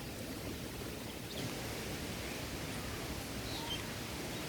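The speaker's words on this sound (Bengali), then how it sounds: "এই দেখো এবার কিন্তু জোরে বৃষ্টি চলে এসছে" Heavy rain falls during a stormy, windy day, a dense steady hiss filling the whole stretch without breaks.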